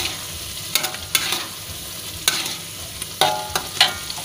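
Sambal with sugar stirred in a frying pan, several sharp spatula scrapes and clacks spaced irregularly over a soft, steady sizzle, close up and without speech.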